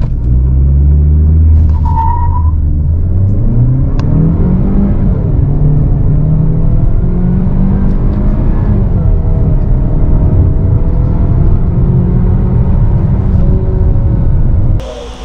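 A 2022 Citroen C5 X with 180 hp accelerating hard from 0 to 100 km/h, heard from inside as a loud, sustained engine rumble rising in pitch through several gear changes before easing off at the end.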